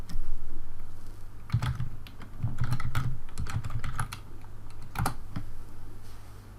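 Steady typing on a computer keyboard, bursts of close, crisp key taps with brief pauses between runs over a constant low background hum.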